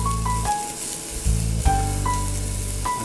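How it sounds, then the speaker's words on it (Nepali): Onions fry in hot oil with bay leaf and garam masala, giving a loud, steady sizzle that barely changes, with a few faint tonal beeps and no voices. "तातेपछि हामीले यसमा प्याज भुटिदिन्छौँ"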